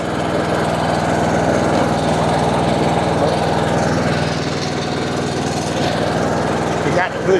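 A John Deere D140 lawn tractor with 196 hours on it runs steadily close by, its small engine droning at a constant speed with a faint rattle, and a voice speaks briefly under the engine noise.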